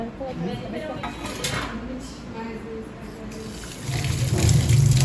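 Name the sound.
water running from a tap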